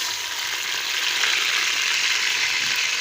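Onions frying golden in hot oil for a simple rice biryani, with crushed garlic and ginger added, give a steady, close, continuous sizzle with no voices over it.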